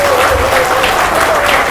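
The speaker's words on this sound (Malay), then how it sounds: "But sekali lagi tepukan kepada orang wanita." Loud applause from a crowd at a women's wing launch event in Sabah, a dense, steady roar of many hands clapping with a faint tone running underneath.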